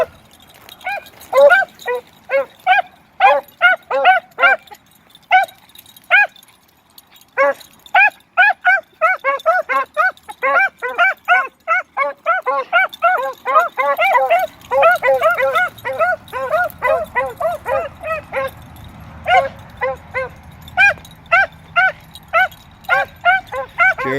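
Hunting dogs bay and bark in quick, repeated bursts, close and loud, among them a three-month-old Bullocks Creek pup, the yips and howls overlapping throughout with a low rumble entering midway.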